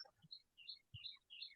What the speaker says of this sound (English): It's birds today.